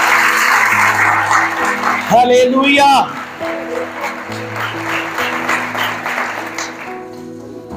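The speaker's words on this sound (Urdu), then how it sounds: "آؤ اس بات کے لیے زوردار تالیاں بجائیں۔" A congregation at a Urdu-language church sermon claps loudly and steadily while music plays along and a voice calls out briefly partway through, the clapping continuing to the end.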